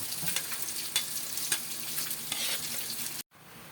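Garlic fries in butter with a steady, fairly quiet sizzle and occasional stirring clicks, ending abruptly.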